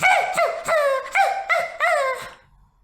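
A dog barks about six times in quick, yappy succession, each bark sharp and close, then the sound stops.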